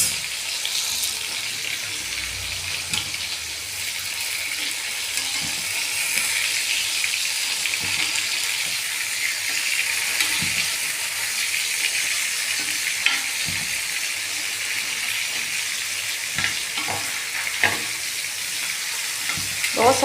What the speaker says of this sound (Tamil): இன்றைக்கி தோசைக்கல்லில் தான் வறுக்கிறேன்.